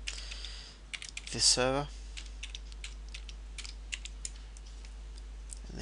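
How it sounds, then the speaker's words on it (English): Fingers typing an IP address on a computer keyboard, scattered close key clicks in uneven bursts, with a man's brief speech partway through. "So you would type in the IP address of this machine"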